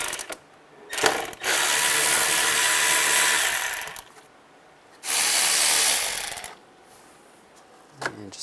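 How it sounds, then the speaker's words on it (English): Close ratchet fitted with a T20 socket backing out intake tube screws on a 2006-2009 Volkswagen Rabbit, two long runs of rapid clicking separated by a short pause, with brief metallic taps before and after. "Use a T20 socket to take those out."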